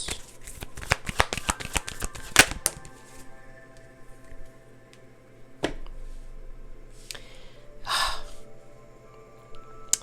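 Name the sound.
tarot cards being shuffled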